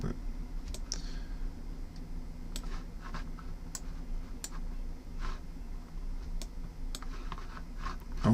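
Soft, scattered clicks of a computer mouse, some in quick pairs, sound close and quiet over a faint room hum during AutoCAD work.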